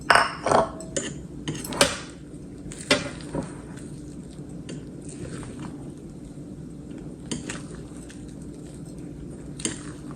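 Homemade cake rusk batter is scraped from a bowl into a paper-lined mould, with a burst of clattering utensil knocks and wet scrapes at first, then sparse, softer taps and scrapes, without talk.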